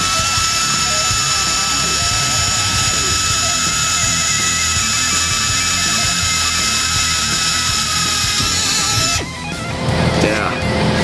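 A loud, steady high-pitched whine of an air drill boring into mild steel runs continuously, then shifts abruptly near the end as the tool changes load.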